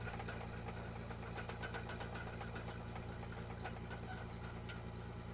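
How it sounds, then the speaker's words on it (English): A bulldozer engine runs steadily nearby with a throbbing, knocking idle rhythm and faint metallic clinks on top, no voices. "We're back to moving stuff with the dozer"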